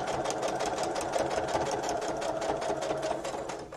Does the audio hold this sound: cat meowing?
no